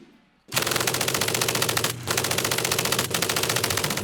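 An MG-42 machine gun fires long continuous bursts, a loud, rapid, buzzing stream of shots with two brief breaks, preceded by a moment of near silence.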